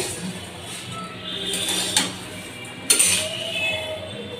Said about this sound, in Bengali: তাই এখন একটু মুড়ি ভেজে নিচ্ছি